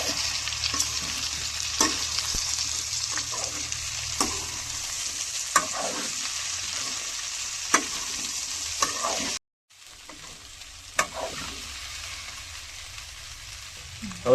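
Chopped okra and potatoes sizzle steadily in a frying pan while a spatula scrapes and stirs them in repeated strokes, with a brief drop to near silence partway through and no talk.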